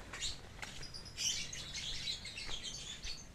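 Lovebirds kept for breeding chirp and tweet in quick, bright bursts, several birds calling close by in an irregular chatter with no talking.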